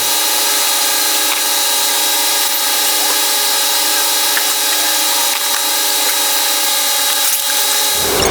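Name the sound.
unscrewing coil pack bolts on a Camaro SS engine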